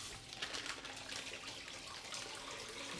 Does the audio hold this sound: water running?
yes